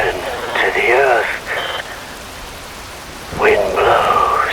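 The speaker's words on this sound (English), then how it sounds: "Wind blows, rain falls." Steady rain hisses through a Metal Gear Rising: Revengeance cutscene, a constant wash of falling water under tonal voice-like sounds that come and go.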